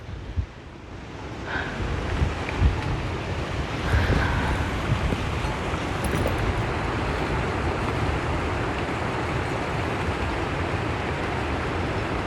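Wind gusts steadily across an open rural outdoor spot in Thailand, a continuous broad roar with buffeting rumble on the microphone and no pauses, loud and close throughout with no talking.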